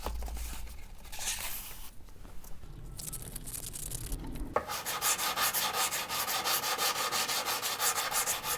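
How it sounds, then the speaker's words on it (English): 220 grit sandpaper rubbing across a violin fingerboard, a soft hiss of slower strokes at first and then a steady run of quick, even back-and-forth scrapes, close and clear with no talking. "If you start with 220 grit sandpaper, it plugs up quickly, so don't be surprised if you have to clean or replace it after only a few swipes."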